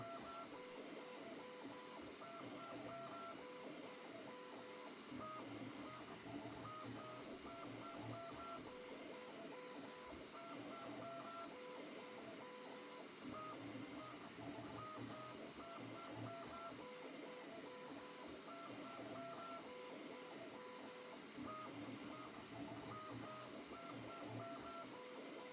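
A Bambu Lab P1S 3D printer runs steadily, its motors humming and whirring in a continuous mechanical drone with faint repeating tonal patterns, alone without voices for the whole stretch.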